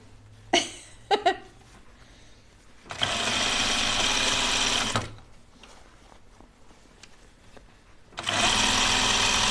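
A sewing machine tacks fabric for pajama bottoms in two sustained whirring bursts of a few seconds each, close and steady, preceded by a few short clicks and separated by quiet.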